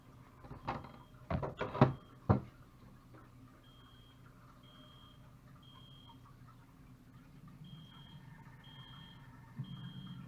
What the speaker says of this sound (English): The sound of a fire alarm going off.